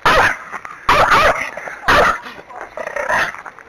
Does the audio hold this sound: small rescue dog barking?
yes